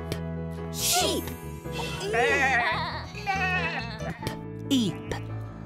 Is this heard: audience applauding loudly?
no